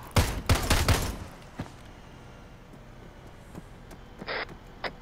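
Gunfire in the military video game ArmA 3: a rapid cluster of loud, sharp shots at the start, then scattered fainter reports and a couple of distant cracks over a quiet background.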